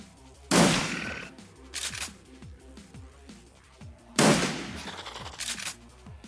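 Two loud, close bursts of gunfire in a video game, each followed by quieter trailing shots and echoes, separated by a few seconds, over faint background music.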